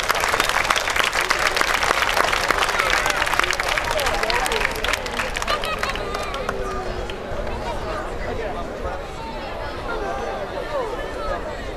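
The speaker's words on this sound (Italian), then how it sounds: "Signore, vogliamo fare un applauso a queste brave atlete?" Audience at an amateur boxing night claps and cheers for two female boxers after the second round, dense loud applause that thins and fades into crowd chatter.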